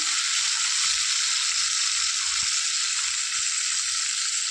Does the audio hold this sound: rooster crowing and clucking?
no